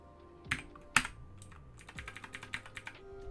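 Code is typed on a computer keyboard in a close, quick clatter of key presses, with a couple of louder strikes early on followed by a steady run of lighter taps.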